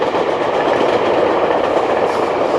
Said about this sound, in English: you see another train going in the other direction